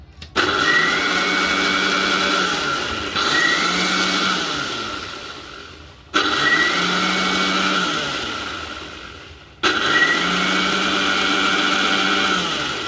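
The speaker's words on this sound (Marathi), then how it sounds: "याला 5 ते 6 वेळा मिक्सरला थोडं थोडं करून फिरवून घ्यायचं" A mixer grinder whirs loudly in four separate bursts, each spinning up sharply and then settling, while blending homemade mayonnaise with oil, with brief pauses between runs.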